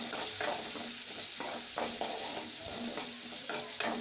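Chopped onion and curry leaves fry in hot oil in a pan, a steady crackling sizzle with rhythmic scraping strokes of a spatula about every half second, close and continuous with no talk.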